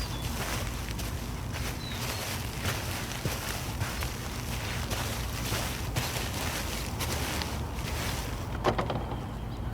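A new 2025 Caterpillar 303 mini excavator runs steadily near a dig site, giving a continuous low engine rumble mixed with broad rushing noise and a few light knocks.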